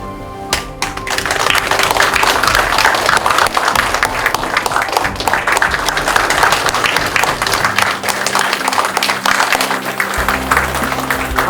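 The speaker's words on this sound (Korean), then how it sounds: "협의회가 기가 전달될 때 뜨겁고 힘찬 박수 보내주시기 바랍니다." Loud, sustained audience applause fills a ceremony hall as a council flag is handed from the outgoing to the incoming president at the Anyang residents' autonomy council inauguration, dense clapping continuing steadily throughout.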